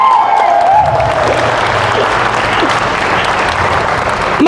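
A church congregation at an El Shaddai gathering in Tagaytay City claps loudly and continuously, a dense close wash of applause with a faint voice briefly audible underneath.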